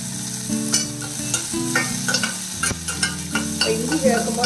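Green chilies and chopped ginger sautéing in a pan for a raw banana dish: a loud, continuous close sizzle with repeated rhythmic scraping and stirring strokes throughout.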